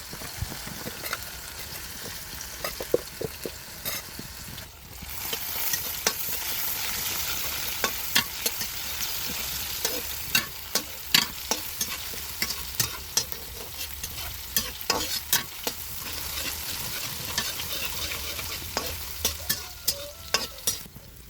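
Home-grown onions fry in a pan until reddened, giving a steady sizzle broken by frequent sharp scraping stirs throughout, close and moderately loud.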